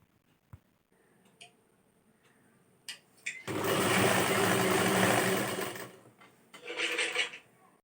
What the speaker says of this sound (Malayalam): ഇനി ഒന്നുകൂടെ ഫോൾഡ് ചെയ്തിട്ട് സ്റ്റിച്ച് ചെയ്യാം.